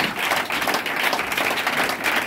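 A church congregation claps and cheers in acclamation of God during a French-language worship service, a dense, continuous roar of applause that stays loud and steady throughout.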